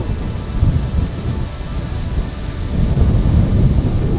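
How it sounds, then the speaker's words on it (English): A storm rolls in over a Filipino province fishing community, with loud, continuous rumbling wind buffeting close by and swelling toward the end. "Storm is coming."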